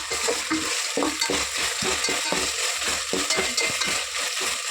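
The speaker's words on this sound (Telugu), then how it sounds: "అల్లం పేస్ట్ కూడా వేసుకొని కలిపేసుకుందాము అల్లం పేస్ట్ ఫ్రై అవనిద్దాము" Ginger paste fries in a hot pan for bagara rice, a steady close sizzle broken by repeated scraping strokes of a spoon stirring it, with no talk.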